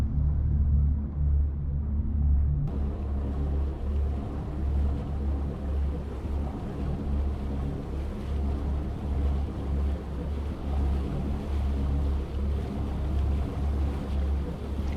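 Steady low rumble of a boat engine idling in Farming Simulator 25, a continuous drone with a slight rise in upper noise after a few seconds, alone with no talk.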